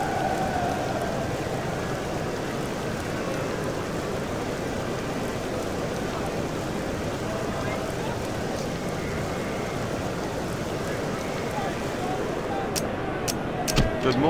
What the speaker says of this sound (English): it's raining quite hard. This is exactly the scene that every cricketer dreads. The rain beginning to pour down.